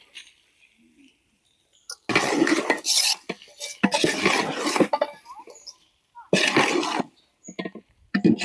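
Cooked rice being stirred and tossed in a pan for egg fried rice, bursts of scraping and clattering utensil on metal coming in several loud, close stretches separated by near-silent pauses, no talking.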